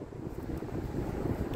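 Strong outdoor wind buffets the microphone in steady low rumbling gusts that fill the whole moment, loud and continuous, with no voice heard.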